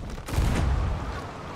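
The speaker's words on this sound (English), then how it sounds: "Big cannon." A big cannon firing in the pirate game Sea of Thieves, one heavy booming blast with a rumbling tail that fills the whole moment, loud and close with no voices.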